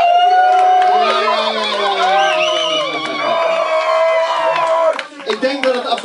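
A club concert crowd cheers, whoops and shouts loudly and continuously, with raised voices and chatter blending into a dense, lively roar that dips briefly near the end.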